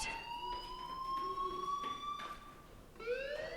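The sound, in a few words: fire alarm ringing at school in Life is Strange video game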